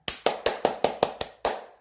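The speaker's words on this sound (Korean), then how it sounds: "우리가 신나게 박수를 치고 하니까 너무 좋죠" Students in a Korean nursing and nutrition class clap in unison, eight sharp, evenly spaced claps in quick rhythm, close and loud with no talking.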